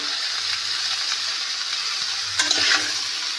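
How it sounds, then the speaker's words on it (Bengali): Mixed vegetables for shukto, salted, fry in a kadai with a steady broad hiss of sizzling oil, close and even, broken near the end by a short scrape of stirring, with no voice present. "এবার এটাও একটু ভালোভাবে ভাজা ভাজা হবে।"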